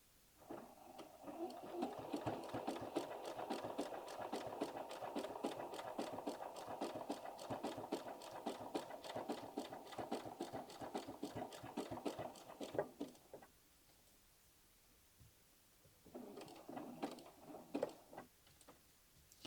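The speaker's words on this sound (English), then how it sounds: "And then we're going to satin stitch this right here, okay? The little twig." A sewing machine satin stitches a twig appliqué onto a quilted-sleeve denim jacket, running in a fast, even needle chatter for about thirteen seconds, pausing in near silence, then resuming in a short final burst.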